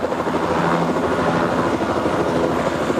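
A big military rescue helicopter flies overhead with a steady, loud rotor thump and engine roar that continues without a break throughout.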